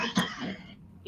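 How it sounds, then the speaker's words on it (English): A man gives a brief rough cough or throat clear, close and fairly quiet, with a short second burst at the very end. "he's coughing"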